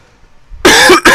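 A man clears his throat loudly and close up, two rough, rasping bursts in quick succession after a near-silent start.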